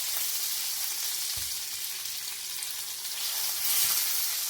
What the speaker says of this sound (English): I feel like this one needs a little more of a sear